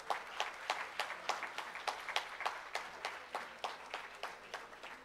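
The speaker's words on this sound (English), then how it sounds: "Give them a round of applause." A modest crowd at an award ceremony claps in a quiet, fairly rhythmic round of applause, individual claps distinct and moderately distant, with a faint low hum beneath.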